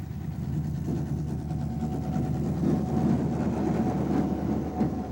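A locomotive-hauled passenger train at Mallow station in Ireland gives a steady, loud, low rumble with a faint engine drone, continuous throughout with no voices.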